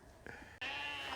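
A sheep bleats on a farm during sorting for breeding season. One short, close, wavering bleat rises loudly after a brief faint animal noise.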